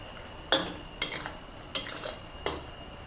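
Stir-frying fish balls in red curry paste, with long beans, in a pan: a few sharp spatula scrapes and clanks against the pan at irregular intervals, close and fairly quiet over a faint background hum.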